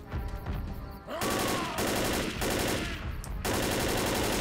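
Loud, rapid automatic gunfire from the zombie co-op shooter Left 4 Dead, fired in sustained bursts with brief gaps and nearly continuous at close range.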